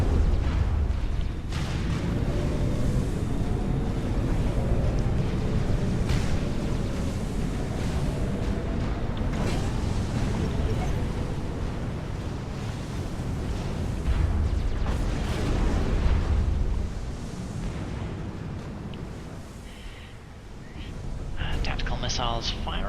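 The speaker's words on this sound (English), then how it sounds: "Missiles firing for effect." Tactical missile launchers open fire in the real-time strategy game Supreme Commander, a dense, continuous roar of launches and distant blasts with scattered sharp bursts over a rumbling battlefield bed, loud throughout and easing slightly near the end.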